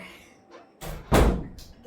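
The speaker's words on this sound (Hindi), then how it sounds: "दरवाजा बंद कर दे दरवाजा बंद कर दे" A door slams shut with a single loud, heavy thud, preceded by a softer knock or movement, in a home setting.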